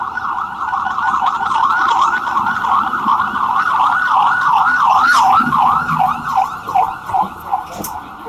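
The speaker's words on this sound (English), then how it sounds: "You ain't gonna see them, but you gonna hear sirens all goddamn night" A loud wailing emergency vehicle siren outside an apartment in Houston, cycling up and down continuously, nearby, fading slightly in pulses toward the end.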